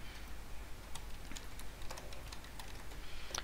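Password keystrokes tapped on a computer keyboard, a quick run of light clicks at an irregular pace over a steady low room hum, close and fairly quiet, with no talking.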